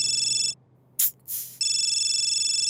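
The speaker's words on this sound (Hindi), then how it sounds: "ये अलार्म की आवाज कैसे बदल गई" Electronic alarm ringing in a steady, rapidly pulsing high tone, loud and close, cutting out briefly while two short bursts of noise sound, then resuming.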